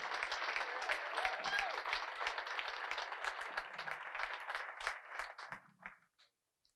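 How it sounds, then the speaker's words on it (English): Applause at a Hall of Fame induction ceremony, a moderate crowd clapping steadily in a large room, with faint voices mixed in, before the clapping thins out and stops. "how about a round of applause for Howard Konke"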